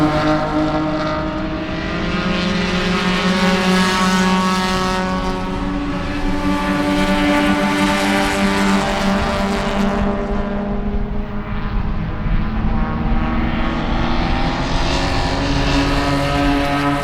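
Race cars circle a road course at Sebring, engines droning continuously at high revs, with layered pitches swelling and fading as cars pass at moderate distance.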